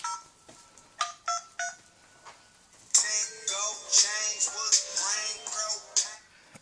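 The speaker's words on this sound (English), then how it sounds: "It's a ringtone." A phone ringtone plays nearby, first as a few short electronic beeps spaced apart, then a louder, continuous bright melody of rapid warbling tones, with no talking over it.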